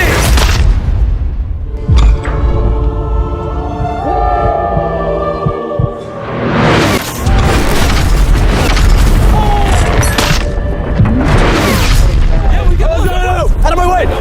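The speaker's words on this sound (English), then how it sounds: "3, 2, 1, drop the Lamborghini!" A Lamborghini dropped from a height lands with a loud, heavy crashing boom partway through, followed by rumbling debris, while people shout and talk throughout.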